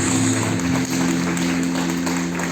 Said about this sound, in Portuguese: Vamos aplaudir em nome de Jesus.